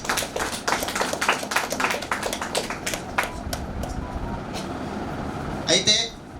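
An audience at a JCI and JAC friendship day meeting claps together, a dense stretch of close, loud, rapid hand claps that gradually thins out and fades.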